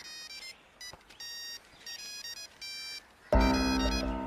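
A mobile phone ringtone chimes in short repeated melodic bursts with pauses between them, then a loud burst of music and noise cuts in near the end.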